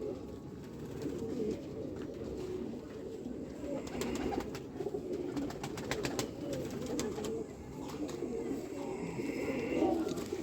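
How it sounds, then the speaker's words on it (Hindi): Feather-rich Parel pigeons in a Jammu fancier's loft coo in a continuous low murmur of overlapping birds, with fluttering and small clicks in the middle and no speech. "ये भी देखिए जी कितना परेल कबूतर"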